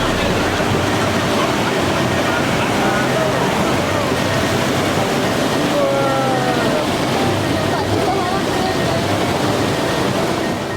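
Rushing water of river rapids on the Batang Kuantan near Silokek village during a rafting trip, a continuous broadband roar that stays loud and steady throughout with faint voices mixed in.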